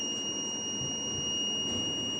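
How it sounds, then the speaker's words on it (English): A buzzer wired to an LD2410D radar motion sensor sounds a steady, unbroken high-pitched electronic tone in a dark room, holding for the whole moment without pause. "the sensor still detects my movement and the buzzer turns on"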